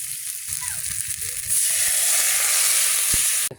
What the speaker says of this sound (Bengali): হ্যাঁ জিরে ফোড়ন, জিরে ফোড়ন দিতে।